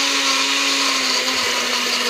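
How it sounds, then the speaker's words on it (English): A countertop blender runs continuously at full speed, mixing a thick, frothy Butterfinger Shakeology shake with a steady loud whir and no pauses or talk. "I let it blend for a while, so sorry."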